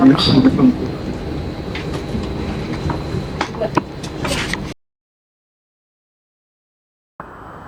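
Rumbling rail noise with rhythmic clacking from a moving train in Sochi-Adler, Russia, for a few seconds, then abrupt silence before the rumble briefly returns.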